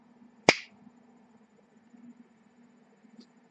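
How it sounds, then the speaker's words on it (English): A single sharp finger snap rings out close and loud near the start, then fades into a faint low hum of quiet room tone. "It's as easy as snapping your fingers."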